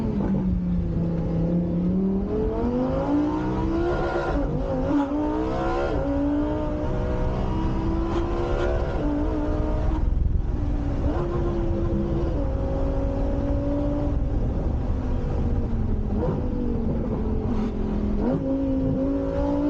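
Lamborghini Huracan Evo accelerating hard as it pulls out into traffic, its engine note climbing through repeated upshifts with brief dips between gears, loud and close throughout with no talking.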